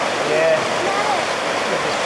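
Water splashing at a lake swimming spot with steep, deep water at a holiday camping resort on Lake Taupo, a steady broadband wash of splashes with voices and shouts of people nearby over it.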